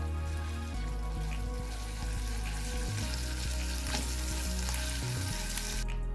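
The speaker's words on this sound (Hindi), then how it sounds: "अच्छे से इन्हें आपस में मिक्स करके थोड़ा सा फ्राई कर लेंगे।" White cumin seeds frying in a pan for bread samosa filling, a steady close sizzle with occasional stirring knocks under a low continuous hum, and no one speaking.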